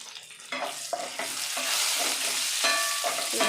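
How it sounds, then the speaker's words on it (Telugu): Curry leaves and broken dried red chillies fry in hot oil, giving a steady close sizzle with repeated scraping stirs in an uneven rhythm. "ఇవన్నీ బాగా ఫ్రై చేసుకుంటాం."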